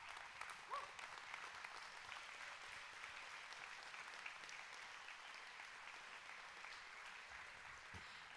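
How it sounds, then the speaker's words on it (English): A church congregation rises in a standing ovation for mothers, steady applause heard from a distance and fairly faint, holding evenly for about eight seconds with no speech over it. "let's give all the moms a round of applause"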